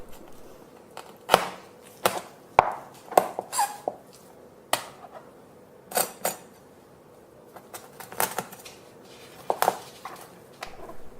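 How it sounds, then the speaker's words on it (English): A knife chopping a salmon backbone into pieces between the vertebral discs during sushi preparation: about a dozen sharp, irregular knocks and taps on a board, close and otherwise quiet. "You can cut this into smaller pieces by cutting between the discs."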